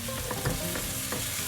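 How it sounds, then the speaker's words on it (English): Onions frying in a pan for lamb achar gosht, a steady close sizzle with soft scraping as they're stirred, alone with no voices. "Fry the onions till they're nice and golden color"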